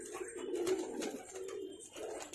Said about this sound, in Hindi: काफी सुंदर कबूतर है।